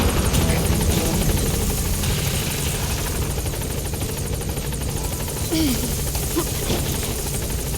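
Helicopter arriving at a landing zone in Metal Gear Solid V, a steady loud rotor thump and engine roar that continues throughout without letting up.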